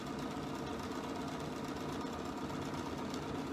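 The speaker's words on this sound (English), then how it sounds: "And I'm stitching across the bottom of the pillowcase now." A sewing machine stitches across the bottom of a fabric pillowcase, giving a steady, unbroken mechanical whir and rapid needle chatter that holds close and even throughout.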